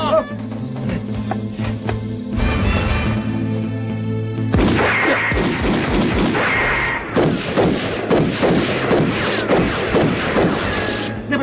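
Gunfire bursts out in a Kung Fu action film set in the anti-Japanese war: loud cracking shots and booms come in clusters over a dramatic soundtrack, growing denser toward the end.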